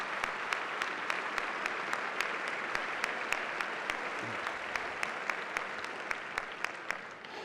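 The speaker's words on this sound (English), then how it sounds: "Let's give the Columbus Club a round of applause." Dinner guests at a Columbus Foundation event applaud the Columbus Club, a continuous bed of clapping with a few sharp, closer claps standing out at a regular pace, and no talking over it.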